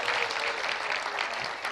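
Applause from an audience at an awards event for the 2023 finalists and winners of Artisans of Mzansi, a steady dense wash of many hands clapping, moderately loud and continuous without a voice over it.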